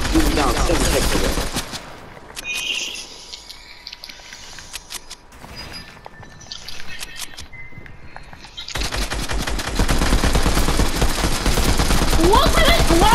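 Loud bursts of automatic gunfire from a Fortnite match, dense rapid fire at the start, a quieter stretch with scattered shots, then sustained heavy firing to the end.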